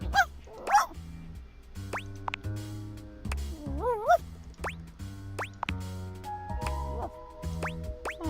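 A dog yips and whimpers in a few short, high, sliding calls over steady background music, fairly close and moderately loud.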